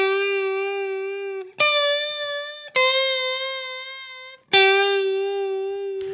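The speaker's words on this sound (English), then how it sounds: "So the vibrato alone sounds like this." Electric guitar run through a Strymon Ola chorus/vibrato pedal with mix and depth at maximum and a low-medium speed, giving lo-fi, synth-like tones. Three sustained chords or notes waver in pitch, each fading slowly before the next strikes, with no voices.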